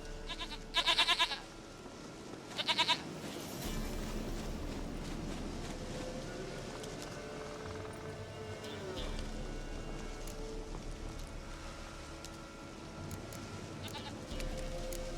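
A goat in The Witcher 3 lets out two brief, sharp bleats near the start, then a steady bed of game ambience and soft music carries on with no further cries.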